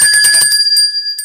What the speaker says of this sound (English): Ringing the bell, Reuben Fairchild the Great